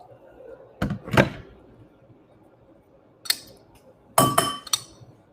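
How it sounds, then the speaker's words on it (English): Glassware and a metal tea strainer clink during a tea rinse, with Japanese shincha or puerh tea being prepared: two sharp bursts of clinks early, then a quiet gap and a denser cluster of clattering knocks near the end. "I'm going to rinse this tea."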